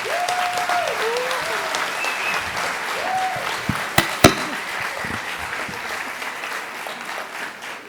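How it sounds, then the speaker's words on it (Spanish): A seated audience at a film preview discussion gives a warm round of applause to welcome the panel, steady dense clapping that carries on throughout, with a few brief voices and a couple of sharp knocks partway through. "Con un fuerte aplauso."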